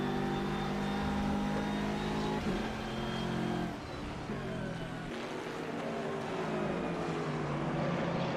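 GT3 race car engine at Donington Park, steady loud drone with harmonic whine through corners, pitch shifting as the car works through the S-bends, continuous and close with no talk.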